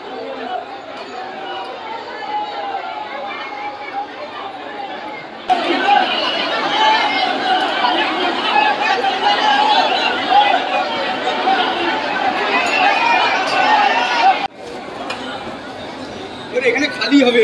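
Dense crowd chatter fills a packed railway station at Panskura as pilgrims wait for trains, an overlapping babble of many voices that swells loud for most of the stretch, with quieter moments before and after.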